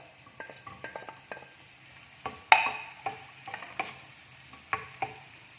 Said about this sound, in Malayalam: ഇനി നമുക്ക് നെയ്യിലേക്ക് ഉണക്കമുന്തിരി ഇട്ട് കൊടുക്കാം.